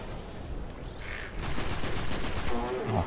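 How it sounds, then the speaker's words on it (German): Enemy gunfire in the sci-fi shooter Destiny crackles in a sustained burst of rapid shots that starts partway through, with game sounds beneath and faint talk. "Ach, die schießen die ganze Zeit."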